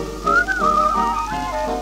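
Clear melodic whistling of a Pinocchio tune, a single sustained pitched line gliding between notes, loud and close over a soft steady background hum.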